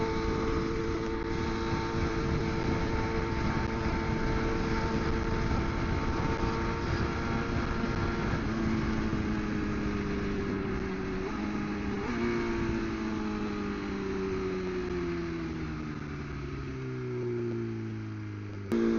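BMW S1000RR sport motorcycle engine heard while riding, a steady loud drone with tones that rise and fall as the revs shift, continuous and close throughout with no talk.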